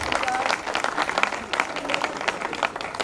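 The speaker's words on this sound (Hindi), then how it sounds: "आप लोग स्टेज पे आने से पहले एक बड़ी तालियां दे सर के लिए" Audience at a college farewell party at a medical college in Dewas clapping for a teacher; dense, steady applause fills the whole stretch at moderate loudness with no break.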